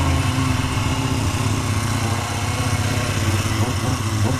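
A motorcycle engine is held hard at high revs near the limiter, giving a loud, continuous buzzing drone with a rough, slightly fluttering texture and no voices.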